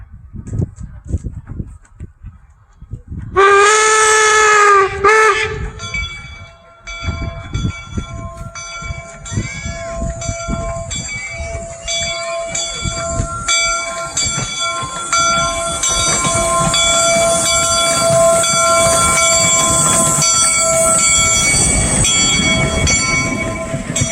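Steam locomotive No. 119 at Golden Spike National Historical Park sounds a long, loud whistle, then rumbles and clanks steadily past close by with a sustained whistle tone and rolling mechanical noise.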